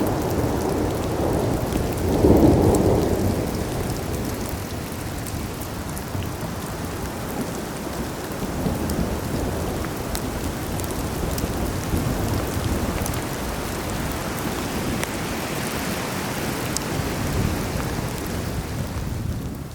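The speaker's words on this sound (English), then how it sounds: "thunder could be heard crackling through the skies" Thunder rumbles through a snowstorm at a forest campsite in Pennsylvania, with a heavy roll early on over a steady, hissing wash of precipitation that continues for about twenty seconds without speech.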